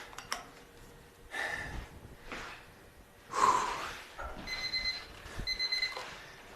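An interval timer in a gym gives short high electronic beeps, a single one early and then brief repeated pairs later, mixed with heavy breathing and exertion sounds from someone working out.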